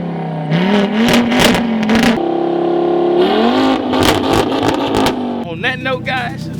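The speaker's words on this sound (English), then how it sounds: "let's show you how fuel and atomization and when everything goes right on a turbo car with a straight pipe makes some power" Straight-piped turbocharged LM7 V8 car revving hard in repeated bursts, each rise climbing sharply then dropping, loud and raw up close with crackling exhaust pops toward the end.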